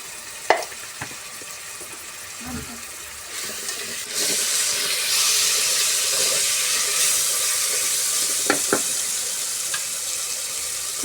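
Food sizzles and fries steadily in a pan with onion, garlic and spices, a constant close hiss swelling louder midway, broken by a few sharp clicks of a utensil stirring.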